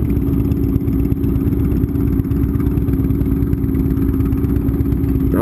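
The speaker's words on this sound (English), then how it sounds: "Damn, that is a lot of shake in the engine." A big cruiser motorcycle engine idles with heavy shaking, a loud, close, rough low rumble with steady clattering pulses that runs unbroken throughout.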